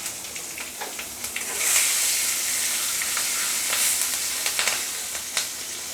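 Dried chili, split green chilies, bay leaf and panch phoron spit and crackle in hot oil, a busy nearby sizzle with frequent sharp pops over a constant frying hiss.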